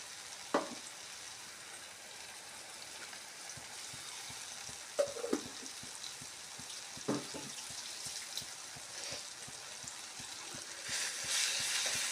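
Chopped ginger fries in a pan of oil for pickle, giving a steady, moderate sizzle throughout with a few soft clinks of stirring scattered across it.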